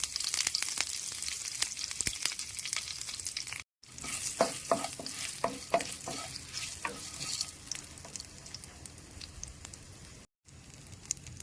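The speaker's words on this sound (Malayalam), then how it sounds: "ഇനി കുറച്ച് കറിവേപ്പില ഇട്ട് കൊടുക്കാം." Curry leaves spit and crackle as they hit hot coconut oil with popped mustard seeds, for a steady close sizzle and stirring scrapes, broken by two brief silences.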